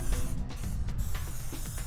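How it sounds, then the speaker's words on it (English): Scotchgard waterproofing aerosol sprayed over a tent vent and the fabric beneath its seam, giving a steady close hiss that runs for the whole stretch without pause and with no voices. "So I'm going to spray"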